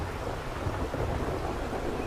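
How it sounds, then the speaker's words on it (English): Rain and rolling thunder begin in the survival video game 7 Days to Die, a steady dense roar of rainfall with low rumbling underneath, even and continuous, with no talk. "Rain started, so no more sunlight,"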